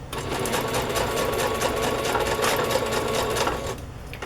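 A sewing machine runs steadily, stitching ruffles of chiffon and tulle with raw edges, a continuous close mechanical whir and rattle that cuts off just before the end.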